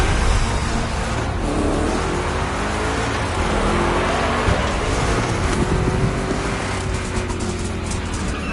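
Two big-block Chevy race cars from The Crew Motorfest roar and rev continuously at close range, a loud, dense engine drone with shifting pitch as they race, no talking.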